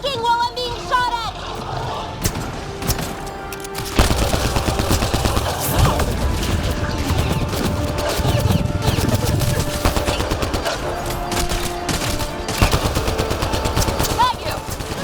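Gunfire from the game Mass Effect Andromeda: bursts of rapid automatic fire and single loud shots crack in dense clusters, with booms, tonal game effects and voices speaking between volleys.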